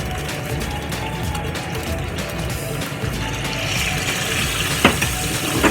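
A chicken piece sizzles in a pot for creamy garlic butter chicken, a steady close broadband fry crackle with a few sharper pops near the end.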